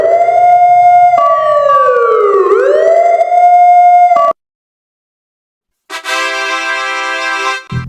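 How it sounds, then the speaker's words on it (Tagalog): A fire truck siren wails loud and close, sweeping down and back up over about four seconds, then falls silent before a blaring, buzzy horn blast sounds for nearly two seconds. "This is a sound of fire truck."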